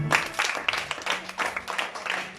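Church congregation applauding in a short, steady burst of clapping, with quick irregular claps at moderate loudness.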